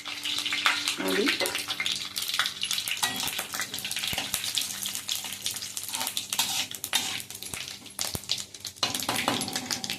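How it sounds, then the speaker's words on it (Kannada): Chana dal tempering in hot oil in a kadai gives a crackling sizzle broken by stirring clinks and scrapes, with a brief voice in between. "ಅದು ಒಗ್ಗರಣೆಗೆ ಕಡಲೆಬೇಳೆ ಇದೆಲ್ಲ ಹಾಕಿದ್ದೀನಿ."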